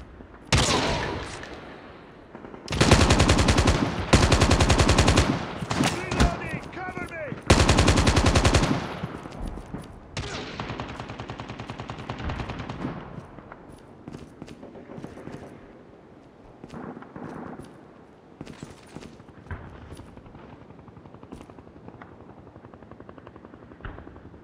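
Call of Duty Mobile firefight: loud bursts of automatic rifle fire in rapid strings, then scattered shots and softer distant gunfire trailing off, with no talking.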